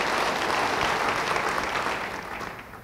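A church congregation bursts into dense applause, loud and close for nearly three seconds before starting to fade.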